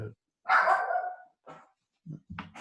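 A dog gives a few sharp, close barks, one longer bark followed by shorter yips, separated by brief silences.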